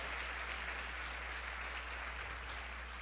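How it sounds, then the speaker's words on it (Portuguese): A church congregation applauds during a Portuguese-language sermon, a soft, distant wash of clapping spread evenly throughout over a steady low hum from the hall's sound system. "Quem pode aplaudir ao Senhor por isso, se você crê nisso?"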